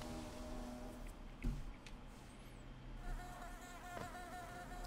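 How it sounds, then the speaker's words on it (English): A continuous buzzing hum of bees in the video game Hollow Knight fills the whole stretch, with a few short clicks and a brief thump partway through. "Oh, there are bees."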